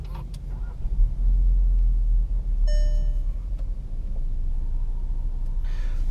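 A 2019 Volkswagen Jetta SEL Premium driving, with a steady low road rumble and engine drone from inside the car, a few faint clicks and a brief chime partway through.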